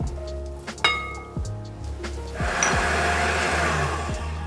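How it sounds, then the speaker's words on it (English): An electric mixer whisks eggs with brown sugar, whirring steadily with short pitch-shifting surges as the motor changes speed, then settling into a louder, continuous beating. "We'll grab some eggs, pop it into a mixer,"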